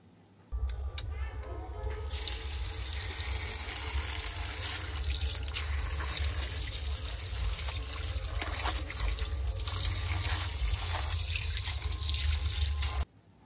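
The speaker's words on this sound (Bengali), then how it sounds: "জামগুলোকে সব একসাথে নিয়ে ধুয়ে নেবো" Tap water runs in a strong, steady stream over jamun fruit being washed in a sink, starting abruptly and splashing continuously before cutting off at the end.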